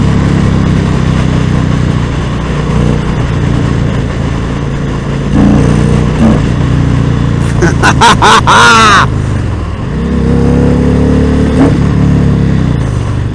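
A 2019 Indian Springfield Dark Horse with its stock 111 engine drones steadily while riding, then revs up hard in a rising whine around the middle before settling back to a loud cruising rumble.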